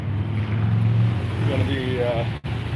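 Steady low traffic rumble from cars on a main downtown street in Spokane, a continuous broadband drone with passing-vehicle swells, heard beneath a person talking.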